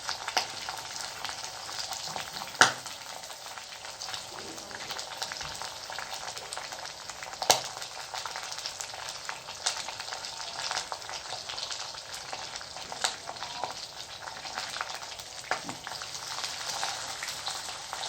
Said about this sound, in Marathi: अशी उलटपालट करून आपण व्यवस्थित तळून घेऊ लालसर होईपर्यंत